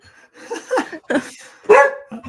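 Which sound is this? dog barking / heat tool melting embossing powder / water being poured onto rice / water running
dog barking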